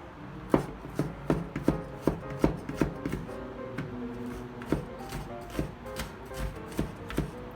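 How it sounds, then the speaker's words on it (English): A knife chops garlic finely on a board with quick, evenly spaced taps, quiet and close, with a short pause partway through and no talking. "you're chopping the garlic also"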